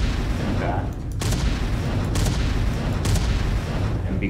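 Rocket launcher projectile impacts in an Unreal Engine 5 video game: three sharp explosive booms strike at regular intervals over continuous loud rumbling game noise, with faint talk underneath.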